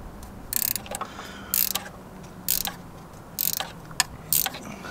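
Ratchet clicking in five short bursts, each a quick run of bright metallic clicks, during a thermostat change on a Renault Megane RS 250, close and fairly loud over a low hum with quiet pauses between bursts.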